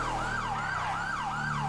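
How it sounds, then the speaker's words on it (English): Police car siren in Grand Theft Auto V, a loud wailing tone sweeping up and down in a steady repeating cycle over a low vehicle engine rumble. "Let's cut the siren."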